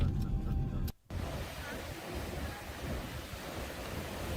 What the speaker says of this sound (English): And this is wonderful Pacific Ocean.